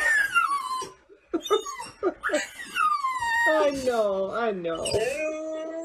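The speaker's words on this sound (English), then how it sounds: "To like throw her head back and howl like that" A dog throws her head back and howls, rising and wavering long howls near the microphone, with people talking and laughing over and between them.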